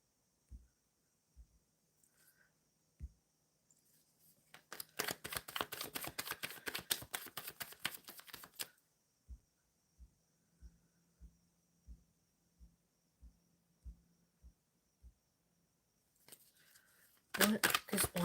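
Tarot cards are shuffled in a quiet room: scattered soft taps, then a dense riffling burst lasting several seconds, more evenly spaced taps, and another short riffle at the end.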